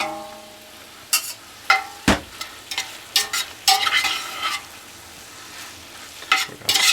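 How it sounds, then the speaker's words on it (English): Potatoes being stirred into cooked chorizo in a frying pan, irregular loud spatula scrapes and clatters breaking over a soft background sizzle. "Stir to combine the potatoes and the chorizo."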